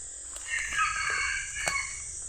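A rooster crows once, clear and fairly near, in a long sustained call over a faint, noisy background.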